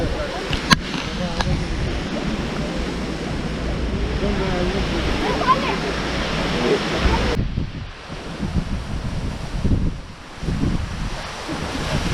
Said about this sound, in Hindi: ये झरना बर्फ पिघलने के बाद जो पानी प्रोड्यूस होता है उसी का पानी है, उससे ये झरना बनी है।